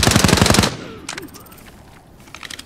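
Rapid automatic gunfire from a weapon in the video game Arena Breakout: Infinite, a loud close burst of about half a second followed by a few fainter distant shots.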